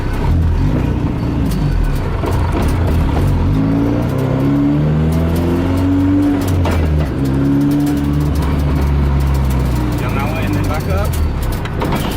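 A car engine revs and roars steadily, its pitch rising and falling in long sweeps, loud and close, with voices talking over it.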